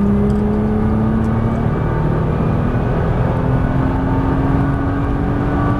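A Nissan GT-R running on a Las Vegas racetrack, a steady loud engine drone with a rising tone as it accelerates, heard continuously from inside or near the car with no talk.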